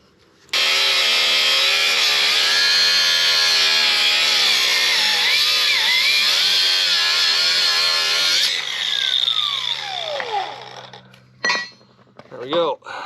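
A power tool cuts through a coil spring from a Foxbody convertible suspension, a loud, sustained shrieking grind that wavers in pitch, then winds down and stops, followed by a few metallic clanks.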